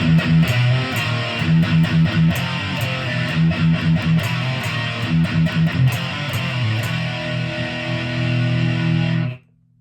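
Heavy distorted electric guitar runs through a full riff at full speed, loud and continuous with rhythmic palm-muted chugs and accents for nearly ten seconds, then stops abruptly.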